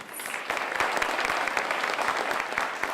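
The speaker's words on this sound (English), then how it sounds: "join me in giving another heartfelt round of applause to all of our 2017 Hartzog Award recipients" An audience at the 2017 Hartzog Award ceremony applauds the award recipients, a steady, dense patter of many hands clapping throughout, with no voices over it.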